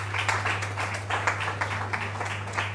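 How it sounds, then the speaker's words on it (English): Audience at a book launch claps in a moderate, uneven round, with individual claps standing out over a steady low electrical hum. "Please, let's clap for education."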